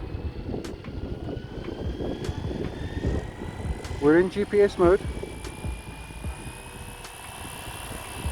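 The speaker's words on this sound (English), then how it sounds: "The tail will start first. Listen for the pitch change." A Flywing Bell 206 model helicopter starts up, tail rotor first, with a thin rising whine as the pitch changes, set against wind noise and gusty rumble; someone speaks briefly midway.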